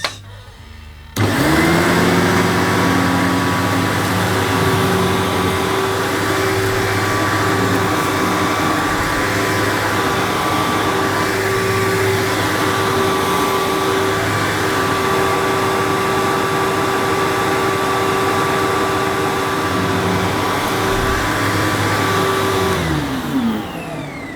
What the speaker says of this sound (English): Right, okie dokie, we'll switch it on.